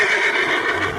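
A horse in a cowboy video game gives a loud, close whinny, a single sharp, strained neigh filling the whole moment.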